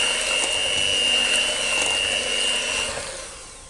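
An electric blender beats a kheer mixture of milk for vanilla kheer with a steady, high whirring drone close to the mic. A thin whine runs through it for about three seconds before the motor winds down and fades.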